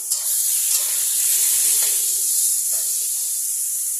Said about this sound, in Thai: ผัดไปเรื่อยๆครับ ผัดให้ ขิงอ่ะ มีกลิ่นหอมของขิงนะครับ